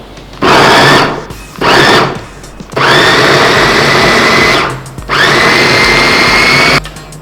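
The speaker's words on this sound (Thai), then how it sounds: "คราวนี้เราจะมาปั่นกัน ปั่นเลย" Electric blender whirring loudly through boiled, soaked red beans in four bursts, each pulse starting and stopping abruptly with short pauses between, close and steady while running.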